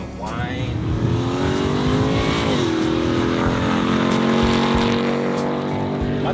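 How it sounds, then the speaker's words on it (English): A supercharged Hennessey Mammoth 1000 TRX truck with 1000 horsepower revs and accelerates, its engine note climbing and dipping with a high whine layered over it, while someone talks. "Like the supercharger, hearing the whine."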